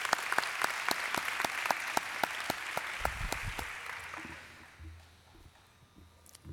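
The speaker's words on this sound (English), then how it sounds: "Let's give them a round of applause." At a college department ceremony, an audience gives a round of sustained applause that is dense at first, then thins out and fades.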